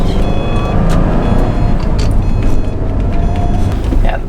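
A Subaru STI hatchback accelerates hard in second or third gear, its engine droning loud and steady from inside the cabin with some wind and road noise.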